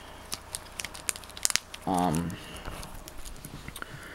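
Card-protector plastic crinkles as a taped flap is folded down onto the back of a sports card, giving light scattered crackles and taps; a brief voiced sound cuts in midway.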